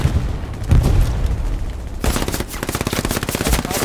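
Bursts of machine gun fire from the World War II shooter game Hell Let Loose at night in the Hurtgen Forest: a muffled boom, then a rapid, loud rattle of repeated shots.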